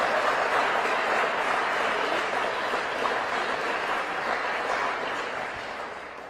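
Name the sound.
round of applause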